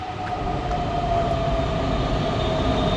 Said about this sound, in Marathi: चलो मेट्रो भी आ गई